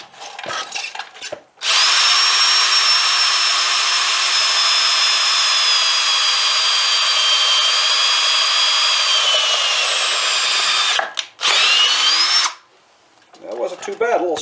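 A power drill with a 3/4 inch wood bit bores through a rubber cutting edge on a Western midweight poly snow plow, giving a loud, steady high whine held for about nine seconds, then a brief second burst.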